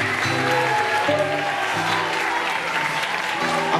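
Theatre audience applauding steadily, with musical tones and a sustained melody underneath, at an event in a theatre in Sardinia.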